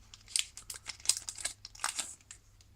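Scissors snip through a trading card booster pack, a quick run of crisp, close cuts and crinkles of foil wrapping, with a few short pauses between bursts.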